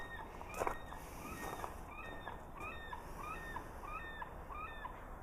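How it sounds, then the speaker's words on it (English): A bird calls repeatedly, short honking notes spaced about every half second over a steady hiss of outdoor background noise. "The bird's interrupting me."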